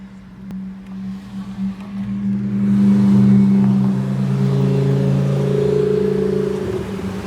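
A yellow Lamborghini Urus drives past, its engine swelling from a low rumble into a loud, steady drone that holds close by and then eases as it moves away.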